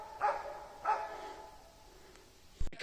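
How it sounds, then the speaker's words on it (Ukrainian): A dog barks twice, fairly far off and moderately loud, in a mountain forest in the Carpathians during a mushroom hunt, followed by a quiet pause and a short rustling knock. "гавкає, але гавкає так внизу"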